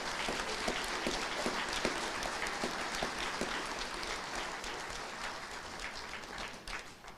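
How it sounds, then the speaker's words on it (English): Crowd applause at a university graduation ceremony, a steady wash of many hands clapping at moderate distance that slowly thins toward the end. "let's give a big round of applause for all the time and sweat we all invested to be here today"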